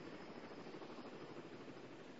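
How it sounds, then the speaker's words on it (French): Helicopters in the video game Battlefield 1942 drone with a steady, faint rotor hum as they take off, a continuous low engine wash with no talking. "et des hélicos décollent tout juste là"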